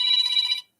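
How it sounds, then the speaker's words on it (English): A short electronic alarm tone rings out, a bright, high beeping trill lasting just over half a second before stopping, heard alone and fairly close. "got alarms going off everywhere"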